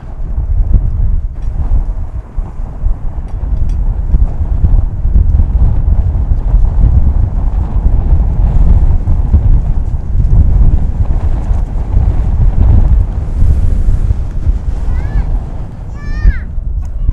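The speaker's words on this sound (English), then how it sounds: "This wind is really picking up." Strong wind roars across the microphone outdoors at Dallas/Fort Worth International Airport, a loud, constant low buffeting rumble that lasts the whole time with no clear breaks.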